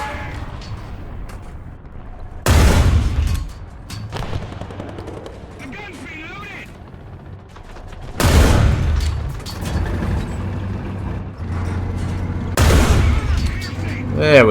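A Valentine Mk I tank gun in War Thunder fires APHE shells, three heavy booming shots spaced several seconds apart, each loud and close with a rumbling tail, under ongoing engine noise and occasional talk.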